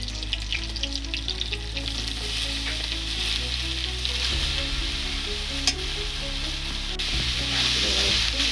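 Bottle gourd and moong dal curry frying in hot oil, a steady loud sizzle running throughout with occasional stirring scrapes and a low background hum.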